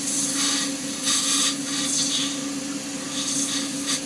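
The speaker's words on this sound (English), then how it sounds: "Now obviously as that's spinning in the lathe there" A shaving brush handle spins on a wood lathe while a turning tool cuts a hollow in its base, making a steady motor hum with soft scraping swells from the tool against the wood.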